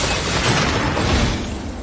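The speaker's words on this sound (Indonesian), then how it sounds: "ledakan itu berasal dari koper mafia sebelumnya" A loud, dense blast roars continuously, a film explosion of a mafia suitcase, heavy low rumble with crackling debris noise and no speech.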